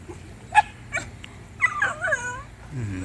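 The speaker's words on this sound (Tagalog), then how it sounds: "Yan mga aso. Yung mga aso di makasunod." Dogs whimper and yip in short, high bursts nearby, ending in a lower whining growl.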